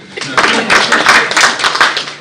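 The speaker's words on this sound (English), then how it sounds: "Clap for me." An audience at an apparel and footwear industry launch event claps in a short burst, a loud close patter of many hands that fades after about two seconds.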